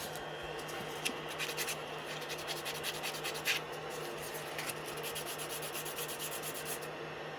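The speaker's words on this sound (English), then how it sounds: "A little bit of sandpaper on that end." Sandpaper rubs against the end of a turned wooden scoop, a faint, steady scratchy rasp with a few slightly sharper strokes and no talking.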